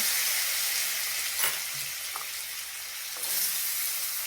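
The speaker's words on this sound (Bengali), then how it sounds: "পেঁপেটা ভালো করে নেড়ে চেড়ে লাল করে ভেজে নেব।" Steady oil sizzle as papaya pieces fry in a pan for a vegetarian shukto dal, close and continuous, with a few soft stirring scrapes.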